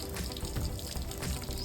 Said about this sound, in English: The water is on and flowing.